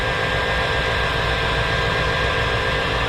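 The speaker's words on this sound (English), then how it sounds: "Here's that LT1 running right there." A 1994 Cadillac Fleetwood's 5.7L LT1 V8 idles with a steady, low hum, a smooth, even rumble and no revving, fairly close and constant throughout.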